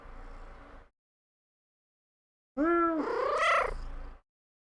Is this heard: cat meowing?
yes